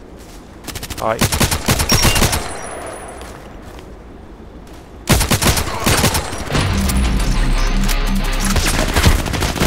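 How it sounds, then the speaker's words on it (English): Bursts of rapid automatic gunfire in the online shooter Contract Wars, fired with a KelTec RFB carbine on the Site map: one loud volley, a pause, then sustained shooting. A short spoken word is heard. "he's shooting to the left"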